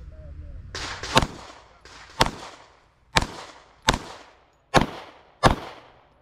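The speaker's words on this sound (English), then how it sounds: "turn around, shoot 6 rounds" A Walther P99 pistol firing during a USPSA match, six sharp, loud reports spaced roughly a second apart, each with a short outdoor decay.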